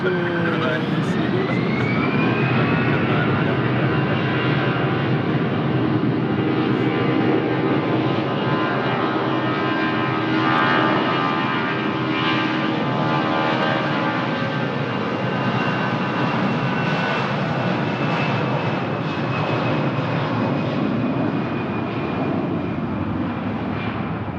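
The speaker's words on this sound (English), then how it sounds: "On the way to Paris. Alpine 34, Paris, Airbus A321 200." An Airbus A321-200 heading for Paris at Lisbon Airport produces a loud, sustained jet roar with a rising, then steady engine whine layered on top, continuing strongly for the whole stretch.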